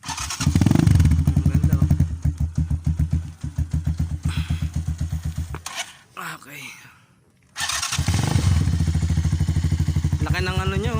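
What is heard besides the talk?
Rusi KR200 enduro motorcycle engine running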